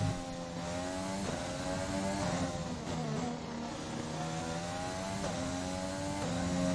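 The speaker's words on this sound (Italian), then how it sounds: "Bello il suono del motore!" A Formula 1 racing car engine in a video game drones loudly and steadily, its pitch rising and falling through gear shifts, with a constant high-revving whine throughout.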